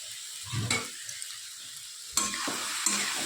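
Red chili powder, garam masala, turmeric, asafoetida and salt sizzling softly in a pan while being stirred, with a few scraping strokes against a steady low frying hiss.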